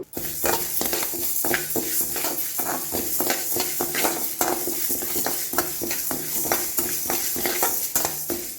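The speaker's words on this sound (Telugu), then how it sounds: "సో ఒక అలాకు రైస్ తీసుకున్నాను. దీన్ని కొంచెం దూరగా ఫ్రై చేసుకుందాము" Rice dry-fries in a pan for green moong dal pongal, with grains rattling and scraping under constant rhythmic stirring over a loud, even sizzle-like hiss.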